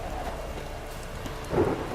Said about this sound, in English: Oh, don't you start raining again.